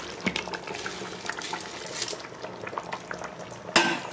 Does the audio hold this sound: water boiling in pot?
yes